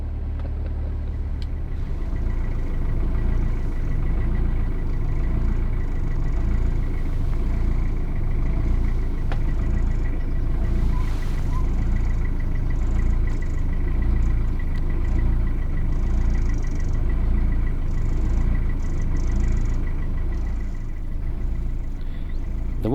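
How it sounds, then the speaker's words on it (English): A narrowboat engine hunting at very slow speed on a canal: a steady, close, low rumbling idle that runs continuously with slight rises and falls in its throb, with no voices over it. "The one thing you might hear a little bit is what they call the engines hunting."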